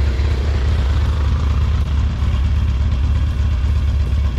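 Off-road vehicle engine running steadily on a Colorado mountain trail near Pole Hill, a continuous loud low rumble that holds level for several seconds with no voices.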